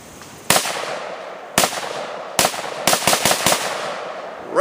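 Gunshots fired outdoors on a farm at a Tannerite target: about seven sharp, loud reports, widely spaced at first and then coming in a quicker cluster.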